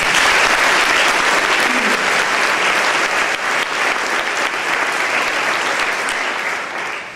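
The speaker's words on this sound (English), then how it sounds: "Let's give them a round of applause." Steady, dense applause from a large audience at a FLAIR induction ceremony honoring students at Augusta University, loud and continuous for about seven seconds before tapering slightly at the end.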